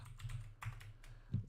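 A short run of quiet keystrokes on a computer keyboard, a handful of soft taps in quick succession, close by.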